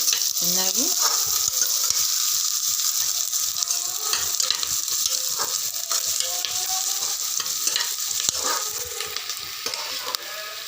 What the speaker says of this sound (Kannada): ಚೆನ್ನಾಗಿ ಬಾಡಿಸ್ತಾ ಇದ್ದೀನಿ ಕೆಂಪಗೆ ಬರೋ ಥರ.